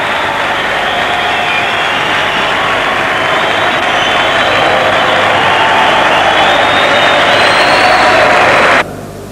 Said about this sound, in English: And Victory receiving the applause, well deserved, for a memorable first victory